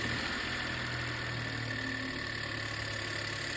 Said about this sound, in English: I see no issues with the engine idling